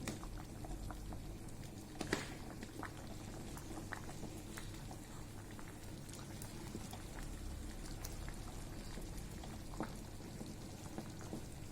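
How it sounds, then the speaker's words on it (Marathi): A pot of vegetable pulao cooked with ghee simmers quietly on the stove, giving a faint, steady bubbling with scattered small pops and ticks and no voices. "थोडा सीम करूया जेणेकरून आपल्या भाज्या पण शिजल्या पाहिजे"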